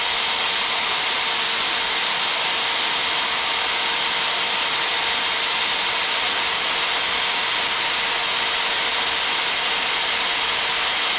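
A drill grinds steadily while boring out cylinder head studs on a Rolls-Royce Phantom 3, a continuous even high-pitched whine and hiss with no pauses, close up and loud.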